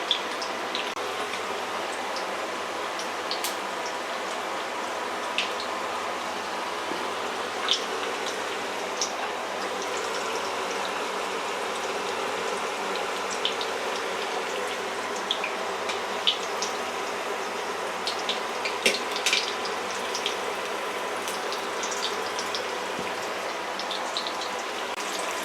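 Red pomfret fish frying in hot oil, a steady dense sizzle with scattered crackles and pops, close and even throughout with no talk.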